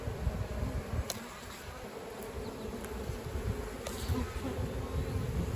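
Honeybees swarm around an open hive being inspected as a new split, their dense, steady buzzing close and continuous throughout with no talking.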